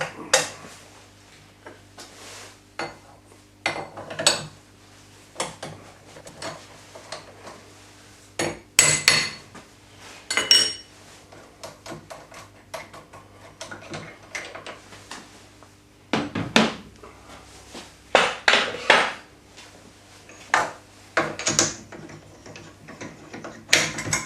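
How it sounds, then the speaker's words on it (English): Sharp metallic clanks, taps and rattles as a drill chuck is removed from a taper, in irregular bursts over a faint steady hum in a quiet shop. "Take the drill chuck out."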